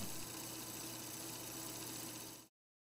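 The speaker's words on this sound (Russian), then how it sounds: "Ротор вращается и в этом случае, правда, не так быстро." Universal electric motor running on alternating current with its rotor spinning at reduced speed, a steady buzzing hum that drones evenly before cutting off abruptly.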